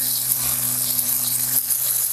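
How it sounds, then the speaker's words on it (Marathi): Finely chopped tomato sizzles in a pan of frying garlic, a steady close hiss that holds for about two seconds while a low electrical hum runs beneath it. "ह्यामध्ये घालूया बारीक चिरलेला टोमॅटो."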